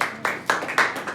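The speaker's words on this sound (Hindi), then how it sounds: "चलिए तालियां बनती हैं इनके लिए" Classroom applause for a student: a short burst of clapping from a group, with several distinct swells of claps in quick succession, fairly close and loud.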